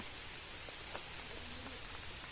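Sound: heavy rain falling

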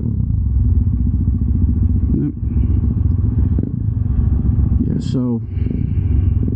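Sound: dirt bike riding up nearby

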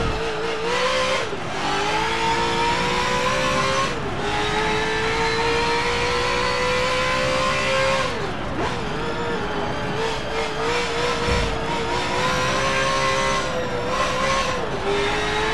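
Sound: GT race car engine accelerating in video game Forza Motorsport 7

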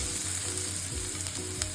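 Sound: garlic sizzling in hot oil

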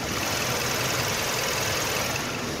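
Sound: Kia K7 gasoline engine idling with hood open

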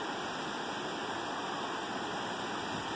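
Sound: swollen creek flowing after heavy rain

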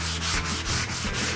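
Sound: hand sanding guitar with 150 grit sanding block

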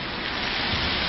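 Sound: heavy rain pouring

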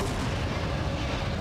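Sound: grenade explosion in a video game

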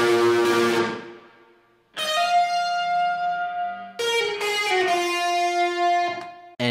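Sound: Telecaster electric guitar through Marshall emulator with distortion

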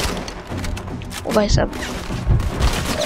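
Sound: gunfire in the video game Modern Combat 5

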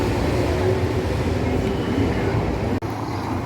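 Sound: number five tram passing on Odesa's French Boulevard

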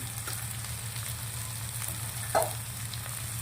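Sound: cumin seeds sizzling in hot oil

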